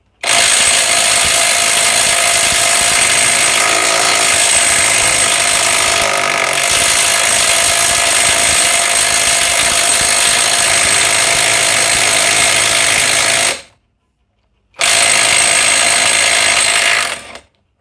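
A Vrill VIW2350 impact wrench working loose a large M27 bolt at a high torque setting, a loud continuous mechanical whir with hammering buzz lasting most of the time, a brief stop, then another close, loud burst.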